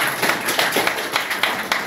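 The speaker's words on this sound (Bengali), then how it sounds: "জোরে একটা হাততালি চাই।" An audience at a lecture on stem cell nutrition therapy claps in a quick, uneven burst of handclaps. The claps sound close and fairly loud.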